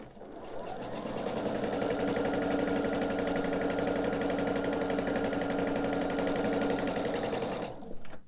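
A sewing machine stitches strip set lazy angle quilt blocks in one steady, continuous whirring run lasting about eight seconds, close and fairly loud, with no talk over it.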